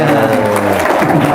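A group claps and murmurs together at close range, with voices mixed into the applause throughout the brief burst.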